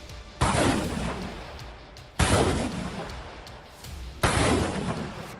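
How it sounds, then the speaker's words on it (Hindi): A Russian multiple launch rocket system fires in Kharkiv, three loud, sharp blasts about two seconds apart, each with a roaring, rumbling decay, distant-sounding and outdoors, with no talking. "जहां रूसी मल्टीपल लॉन्च रॉकेट सिस्टम यूक्रेनी ठिकानों का विनाश कर रहे हैं"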